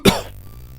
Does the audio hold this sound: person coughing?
yes